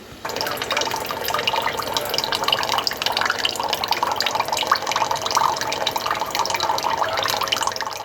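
Bubbling and gurgling of mutton simmering in water with salt and turmeric in a pan, a steady stream of small pops and drips close by.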